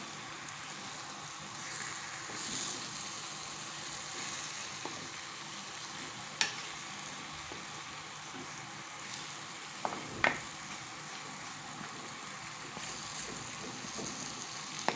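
Camel meat tossed with spices in a pan for a kebab-style tagine, giving a steady low sizzle and soft stirring scrapes with a few brief clinks, heard close and without talk.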